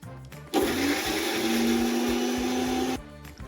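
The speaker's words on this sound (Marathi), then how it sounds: "आता हे वाटण मिक्सरमध्ये फिरून घेऊया" A mixer grinder whirs loudly for about two and a half seconds, blending green chilli, garlic, ginger, coriander and cumin into a paste. It starts abruptly, holds a steady motor whine and then cuts off, with quieter background music before and after.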